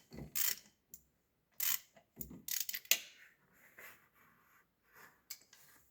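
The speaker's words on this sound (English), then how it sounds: "handy dandy flex ratchet here. Close ratio flex handle." A close-ratio flex-handle ratchet works on a Duramax LBZ diesel engine during reassembly, giving close, dry clicking bursts and short scraping ratchet strokes with pauses between, fading to softer clicks.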